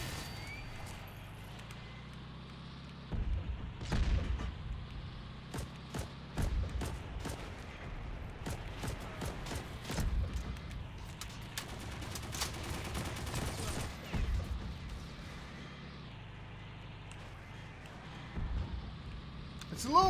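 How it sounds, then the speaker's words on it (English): Gunfire in the Heroes & Generals online shooter, with bursts of rapid shots and scattered single cracks on a battlefield around an armored personnel carrier, loud and dense over a vehicle rumble, with someone talking over it. "You gotta love the shooting from the sides."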